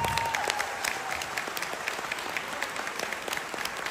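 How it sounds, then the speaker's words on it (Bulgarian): Audience at a children's dance competition claps for a Latin dance group of young kids, a brisk, even burst of applause heard up close and mostly alone. "Още аплодисменти, за да ги поканим на дансинга."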